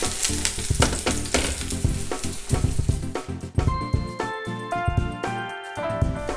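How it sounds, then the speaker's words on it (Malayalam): Banana sweet rolls fry in hot oil with a crackling, bubbling sizzle and sharp pops, heard alongside steady tonal background music. "എന്നിട്ട് ഇതുപോലെ നന്നായി ഫ്രൈ ചെയ്തെടുക്കുക."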